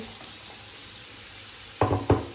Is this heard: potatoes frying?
yes